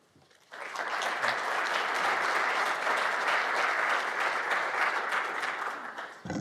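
Steady, dense audience applause in a lecture hall greeting a keynote speaker at a conference on generative AI and trust, starting abruptly after a brief quiet moment and holding at full strength for about six seconds before tapering slightly.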